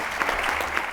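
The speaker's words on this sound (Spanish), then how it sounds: "Nada, un aplauso para ellos." Steady audience applause fills a short moment at a book presentation, dense and even clapping with no break.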